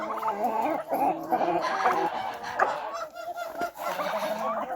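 At morning feeding on a farmyard, a gander honks loudly and repeatedly up close, mixed with gobbling turkeys and other fowl in a busy, continuous clamor.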